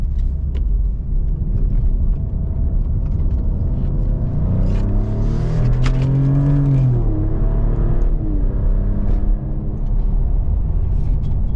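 A 2024 Maserati GranTurismo Trofeo accelerates hard from inside the cabin, its engine note rising through the revs with a swelling rumble and a quick shift midway. The car keeps pulling strongly under a steady low road roar.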